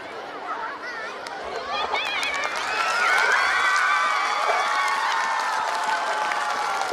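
Students shout and cheer for their house at a school sports day, a dense crowd roar with whoops and chatter that swells and holds steady throughout.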